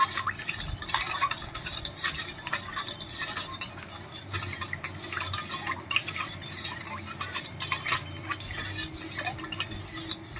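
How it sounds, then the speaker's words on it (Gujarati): Lemon sharbat being stirred with ice cubes in a glass or jug, giving a steady run of close clinking and rattling of ice and spoon against the sides for about ten seconds, with no voices. "હવે આપણે એમાં થોડા આઈસ ક્યુબ નાખીને એકદમ સરસ બધું મિક્સ કરી લેશું."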